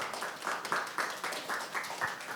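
An audience applauds at an ambassador appointment ceremony with K-pop group MONSTA X. The clapping is steady and moderately loud, with a rhythmic pulse of louder swells every quarter second.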